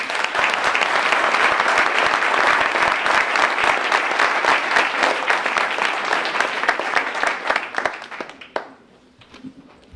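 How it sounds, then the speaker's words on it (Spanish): Loud, dense applause from a bookstore audience for an author at a book presentation, steady for about eight seconds, then quickly fading to scattered claps and quiet. "Fuertes palmas para Jorge Rico."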